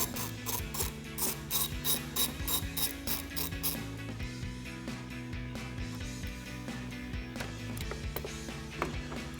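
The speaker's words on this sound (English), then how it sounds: "we'll start with our positive using an 11mm socket to loosen up this nut" A ratchet with an 11mm socket loosens the positive battery terminal nut on a 2018-2020 Ford F-150, giving a fast run of crisp pawl clicks in even bursts, close and clear, then a steadier stretch of softer ratcheting with no talking.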